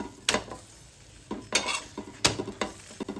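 Potato paratha roasting on a hot pan, with several sharp sizzling bursts and scraping pan sounds over a quiet background hiss.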